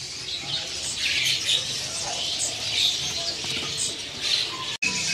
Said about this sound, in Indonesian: di sini ada burung kapas tembak nih